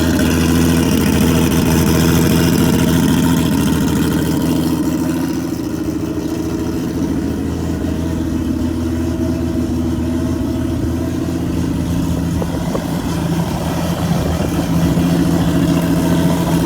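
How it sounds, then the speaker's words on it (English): RB29-swapped Nissan Z car engine idling cold, a steady loud low rumble that holds evenly throughout with no revving, close up and alone without talk. "So right now this is just a cold idle."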